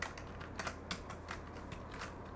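Quick, irregular clicking of keys being pressed on a Delux T9 one-hand gaming keyboard, close and fairly quiet, a short run of taps with uneven spacing.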